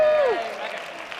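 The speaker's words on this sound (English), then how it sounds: "can we have a big round of applause" Applause from a student audience at a Pride event, clapping for departing contestants, broad and steady for about a second, with a voice trailing off over its start.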